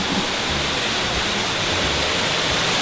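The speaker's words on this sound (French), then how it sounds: "Alors, on est sous la cascade." Waterfall crashing down inside a canyon at a crocodile farm, a steady, dense roar of falling water heard from close by, constant throughout with no talking.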